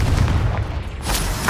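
Confringo blasting spell firing in the Hogwarts Legacy video game, a loud, booming burst with rumbling low weight and a sharper crack near the end, heard alone and close.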